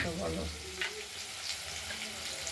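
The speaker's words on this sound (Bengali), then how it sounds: "আর আলুটা আমরা ভেজে নিচ্ছি" Potatoes fry in a pan for a potato and paneer dish, giving a soft, steady sizzle at low volume, with a brief voice early on.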